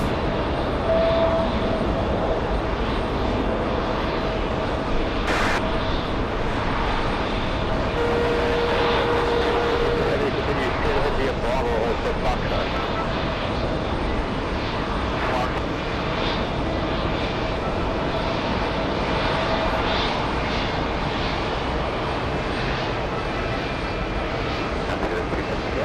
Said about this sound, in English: JetBlue arriving from Jacksonville, Florida.